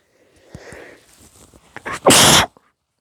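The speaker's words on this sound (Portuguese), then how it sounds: "Nossa, tá frio, posso espirrar." A loud, close sneeze bursts out after a brief inward breath and some quiet rustling.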